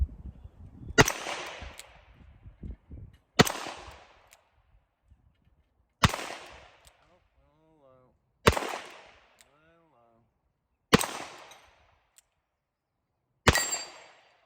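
Smith & Wesson Model 19-4 .357 Combat Magnum revolver fired in six loud, sharp single shots spaced about two and a half seconds apart, each with a ringing tail, with faint echoes between.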